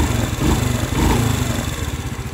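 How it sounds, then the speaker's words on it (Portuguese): A Honda Biz motorcycle engine idles steadily in neutral up close, a continuous low chugging putter with no talking. "Moto ligada, tá em neutro"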